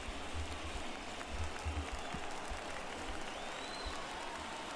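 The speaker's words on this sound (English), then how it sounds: "Crowd on their feet." Steady roar of a stadium crowd cheering in the baseball video game MLB The Show 22, a dense continuous wash of noise with no clear peaks, filling the space at moderate level.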